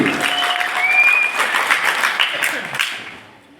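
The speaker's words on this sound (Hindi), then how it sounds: "एक बार विनर वाली सबसे शानदार जानदार ताली अपने नाम जरूर होना चाहिए" Audience applause for award winners at a direct-selling company event, a dense loud wash of clapping that fades toward the end, with a voice faintly audible beneath.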